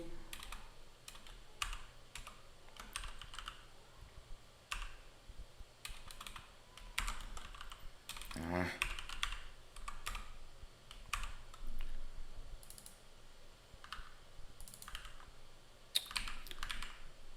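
Quiet typing on a computer keyboard, irregular bursts of key clicks with short pauses between, close and faint with no talk over it.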